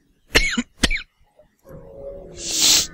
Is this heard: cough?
yes